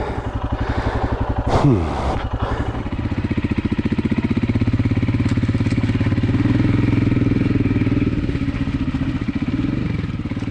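2020 Royal Enfield Himalayan single-cylinder motorcycle ploughing through thick mud, its engine loud and close with a steady thumping drone that rises briefly in pitch near the start, then holds under load throughout.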